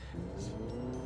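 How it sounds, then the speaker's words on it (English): Simulated engine sound piped into the cabin of a Honda CR-V RS e:HEV hybrid in sport mode, a steady low droning hum that fills the interior without any speech. "But what you hear is some sort of like an engine noise permeating through the cabin."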